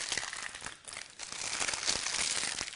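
Close, crisp crinkling of greaseproof paper as the ends of a wrapped tortilla are twisted, a dense crackle that swells and rustles steadily throughout.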